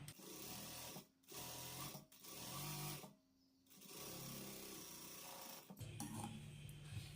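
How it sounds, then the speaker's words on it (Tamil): A sewing machine stitches the front part of a blouse in steady, faint whirring runs, pausing briefly a few times between bursts of stitching. "இப்போ இதை அப்படியே வச்சு தையல் போட்டுக்கலாம்"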